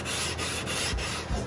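Ryobi thicknesser blades are rubbed on fine grit sandpaper at a 45 degree angle, producing a loud, close, continuous gritty scraping with quick back-and-forth strokes and brief dips between passes.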